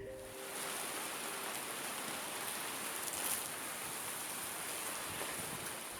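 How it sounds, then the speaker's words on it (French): Rain falls steadily, giving a soft, even patter that hisses on quietly throughout with no voices. "Et puis je pense que j'ai été entendue parce que effectivement la pluie est arrivée."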